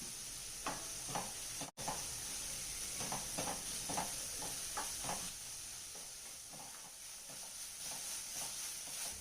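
Capsicum, carrot, ginger garlic paste, green chilli and curry leaves being sautéed in a pan, with a soft constant sizzle and repeated scraping stirs at an even rhythm, close and fairly quiet.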